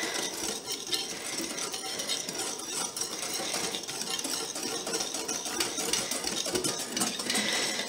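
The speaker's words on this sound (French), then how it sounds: "On remue." A spoon or whisk stirs vanilla sugar into a speculoos tiramisu mixture in a bowl, making steady scraping and clinking that runs continuously without any voices.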